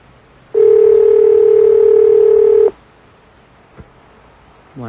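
Telephone dial tone sounding steadily and loudly for about two seconds, then cutting off, followed by a brief click and the start of a rising electronic tone, during a call to a hotline on a 1986 New York radio show.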